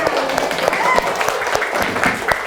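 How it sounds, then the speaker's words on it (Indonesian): Children in a classroom clap their hands together, a busy, uneven patter of clapping with young voices chattering and calling out over it. "Ya, tepuk tangan."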